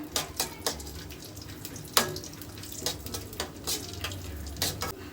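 Almonds, cashews and pumpkin seeds roast in hot ghee over a low flame, a close, irregular crackle and sizzle broken by sharp scraping clicks of stirring.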